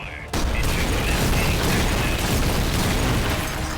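Explosion from an air strike in the video game Metal Gear Solid: Peace Walker, a sudden loud blast followed by a sustained, dense rumbling roar that fills the rest of the moment.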